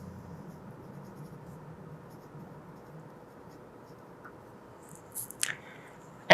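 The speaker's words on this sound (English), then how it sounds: "So I'm going to write down Oreo cookie." A pen scratches faintly and steadily on paper while an ingredient name is written out, ending with a few louder taps.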